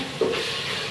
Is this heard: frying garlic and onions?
yes